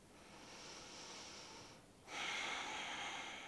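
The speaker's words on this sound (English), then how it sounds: "Just take some nice long inhales and exhales here." Long, slow breaths drawn in and let out during a short yoga class for the feet: a soft, airy hiss that dips briefly, then returns as a fuller, louder exhale, close and with no talking.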